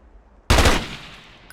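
A single sharp gunshot on a shooting range in the Ghost Recon video game, loud and abrupt after near-silence, followed by a fading echoing tail.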